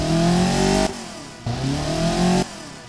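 A virtual replica project car engine in a driving simulator game revs twice in quick bursts, the pitch climbing then cutting off sharply, loud and close with no talking.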